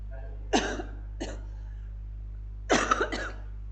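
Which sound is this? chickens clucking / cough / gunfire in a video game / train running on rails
cough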